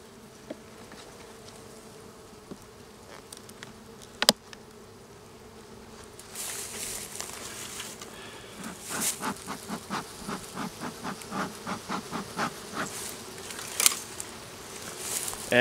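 Honey bees buzzing around an open hive during an inspection, a steady close drone that swells louder partway through, with soft pattering and rustling movements over it.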